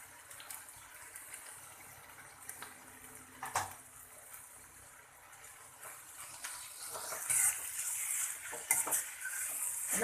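Grated coconut being stirred into raw mango rice masala in a pan, a steady soft scraping and stirring with light sizzling, fairly quiet and close, growing a little busier toward the end.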